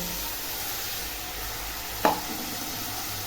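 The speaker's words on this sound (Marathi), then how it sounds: "तांदूळ टाकल्यावर पण बघा चांगलं असं परतून घ्यायचं" Rice sautéed in ghee in a pan for moong dal khichdi gives a steady soft sizzle and stir with no talk, broken by one sharp metallic clink about two-thirds of the way through.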